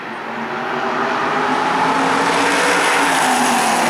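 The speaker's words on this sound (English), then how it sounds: "SK Modifieds up to speed going into turn number 1." SK Modified race cars roar past at Stafford Speedway during a spring race, a loud, sustained engine drone that swells as the pack nears and holds steady, with no talk.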